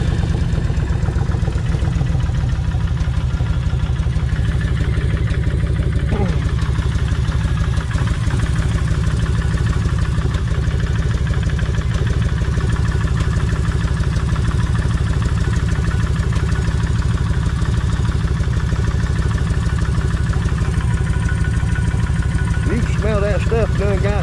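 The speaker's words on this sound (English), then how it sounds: "I'm going to go ahead and crank it and let her idle" A Kawasaki Vulcan 1600 motorcycle engine idles steadily for a long stretch, a loud, even, throbbing rumble with a faint mechanical lifter clatter. Around the end, the revs briefly rise.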